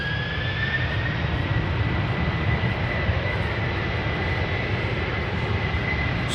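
Delta Airlines Airbus A330-300 jet at Amsterdam Schiphol, a loud continuous engine roar with a rising, sustained whine, steady throughout with no voices.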